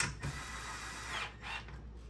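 A few soft ratchet clicks come from tightening bolts on a garage wall mount, faint and close in a quiet room.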